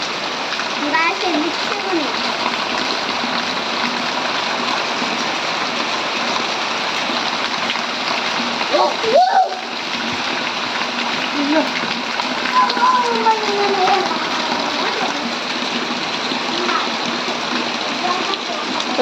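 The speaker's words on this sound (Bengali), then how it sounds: "বৃষ্টি নেমে গেছে আর থাকা যাবে না" Rain pours down steadily in a continuous splashing wash of water. People talk over it, and a short louder splash stands out near the middle.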